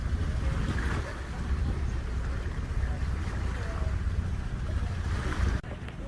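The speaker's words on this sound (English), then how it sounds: "We are fully sailing," Sailboat running under spinnaker with no engine: steady rushing wind and water wash against the hull, a continuous close, breathy roar that drops off abruptly near the end.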